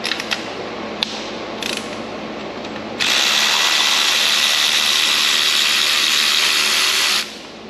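Ratchet wrench backing a bolt out of the alternator bracket on a Hyundai/Kia engine, a few short clicks and pauses at first, then a sustained fast, loud ratcheting whir for about four seconds before it stops.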